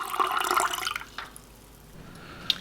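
Tap water pours into the base of a moka pot for the first second, a close splashing fill that then stops, followed by quiet room tone and a faint click.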